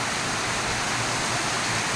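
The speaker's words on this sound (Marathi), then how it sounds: "इकडं बघू शकता पूर्ण मुसळधार पाऊस पडतोय" Torrential monsoon rain pouring down in Mahabaleshwar, a dense, unbroken roar of water, loud and close, with no speech over it.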